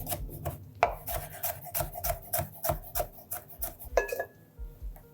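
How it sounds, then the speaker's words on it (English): A kitchen knife is drawn along a sharpening steel or stone in a quick series of rasping strokes, about a dozen close, crisp scrapes in steady rhythm with a few light metallic rings. "sharpen your knife."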